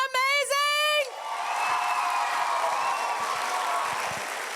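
An audience at a law swearing-in ceremony claps for singers and pianists; after a brief cheering voice, steady crowd applause fills the room with whoops and scattered voices, moderately loud and continuous.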